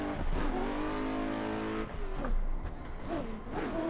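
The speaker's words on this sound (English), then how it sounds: "Kick it in. Fourth gear." A Nissan Z drift car on 265 Achilles 123 tires pulls hard in fourth gear during drift competition testing, its engine note droning steadily and then rising again, close and continuous with no talking.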